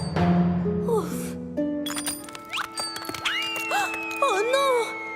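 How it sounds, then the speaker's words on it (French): A cartoon train's lucky bell tumbles and breaks, giving bright metallic dings and clinks with a crack and shatter among musical tones, while a character speaks over it. "Oh non! La cloche de Percy"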